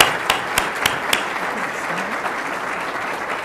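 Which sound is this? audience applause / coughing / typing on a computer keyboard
audience applause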